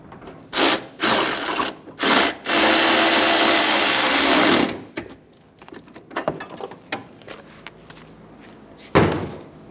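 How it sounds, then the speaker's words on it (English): Nut being tightened on the windshield washer reservoir of a 2014–2019 Toyota Highlander, near the frame rail: loud bursts of a power tool whirring, including one long run, then scattered clicks and clatter. "we're going to tighten down the nut now that we don't need any wiggle room in the bottle"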